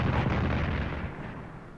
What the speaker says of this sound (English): So in Africa, let's bombard these guys.